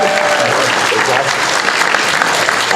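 Dense, loud applause from a studio audience cheering quiz show contestants on Who Wants to Be a Millionaire, continuous clapping throughout with crowd noise.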